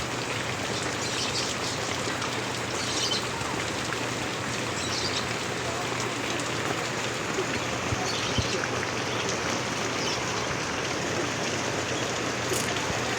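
Heavy rain falls steadily on a vegetable garden in a constant pattering hiss, with a faint low hum underneath.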